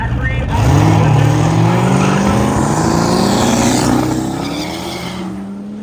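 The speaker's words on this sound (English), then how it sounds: "Here comes our next two cars, the Catfish and the Viper, back one more time." Camaro and Dodge Viper pulling away in a roll race at a drag strip, a loud engine roar rising through the gears with tyre noise, as an announcer talks throughout.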